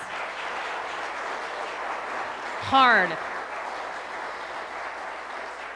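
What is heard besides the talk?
audience applause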